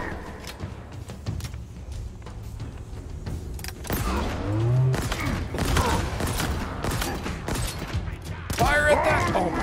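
Plasma pistol fire in the Halo Infinite video game, scattered sharp zaps and bursts amid ongoing combat noise, with excited talking over parts of it.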